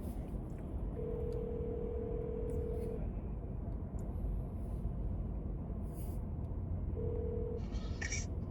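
A phone dials a call, giving two steady tones, one longer and one short, over a constant low background rumble.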